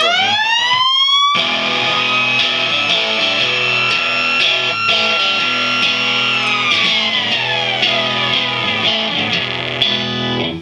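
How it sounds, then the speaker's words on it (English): A loud, sustained electric guitar tone through a Shin-ei Shaftesbury Squall pedal, with a rising then slowly falling siren-like pitch sweep, layered over steady strummed chords, continuous and close. "you get that siren sound"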